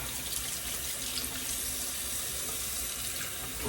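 Tap water running steadily into a sink while someone rinses off after a shave, a continuous close splashing rush throughout.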